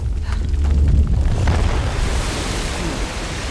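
A waterfall in the Uncharted video game gushes and roars as a dense, loud rush of water, building with a heavy low surge and holding steady throughout.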